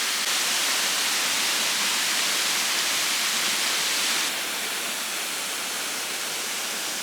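Steady, full-bodied roar of a waterfall framed by ferns on an Australian road trip, a constant broadband rush heard close and loud that eases slightly in level partway through, with no voices.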